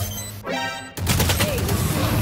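Gunfire in a first-person shooter game: a short burst of game sounds gives way after about a second to steady, loud shots with busy game noise behind them, filling the rest of the moment.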